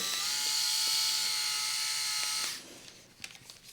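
A steady, high buzzing hum from a Kensen Bald 7D S36 electric head shaver, rated under 68 decibels, runs for a couple of seconds, then cuts off, leaving faint clicks and rustles.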